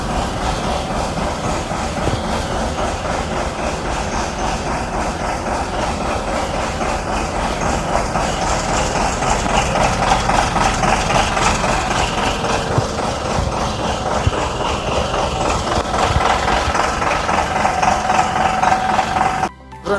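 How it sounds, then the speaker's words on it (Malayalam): Diesel engine of a Tata SK 1613 truck running steadily at idle, a loud, unbroken low rumble with a faint rhythmic clatter, heard close for the whole stretch before stopping suddenly at the end. "വണ്ടിയുടെ എൻജിൻ്റെ സൗണ്ട് കേൾക്കണ കേൾക്കാം കേട്ടോ. ഇതാണ് വണ്ടിയുടെ സൗണ്ട് കേൾക്കുന്നത്."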